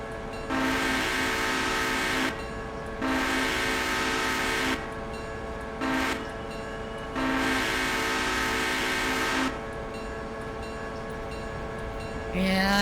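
A diesel locomotive horn in the train simulation game Railroader sounds in several long blasts of differing lengths with short gaps, loud and close over a steady engine rumble.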